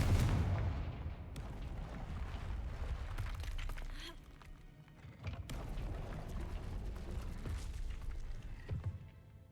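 A fiery Confringo spell blast in the Hogwarts Legacy video game: booming, explosive bursts with rumbling low roar, a sharp impact near the middle and another surge later, fairly faint overall.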